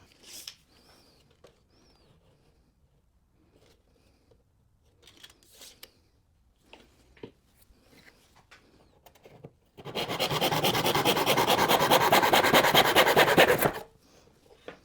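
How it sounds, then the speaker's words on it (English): Hand saw drawing through wood held in a miter box for a beginner wooden toilet paper holder: a dense, steady rasping burst of about four seconds, close and loud, after quiet handling clicks and taps. "I'm going to use the miter box for that"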